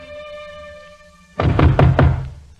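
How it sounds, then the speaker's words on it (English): Four quick, loud raps on a door sound close by, following a soft sustained musical tone, in a radio-drama scene where a movie star awaits a visitor; no one speaks. "There's a knock at the door."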